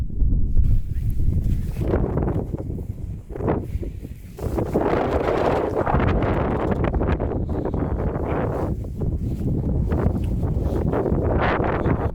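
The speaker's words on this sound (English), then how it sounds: "as you can see, fog and wind again" Strong wind buffets the microphone on a foggy mountain saddle above 2400 m in the Făgăraș Mountains, a loud, continuous roar with gusty swells.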